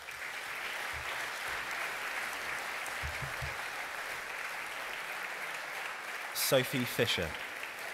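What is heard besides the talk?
audience applauding graduates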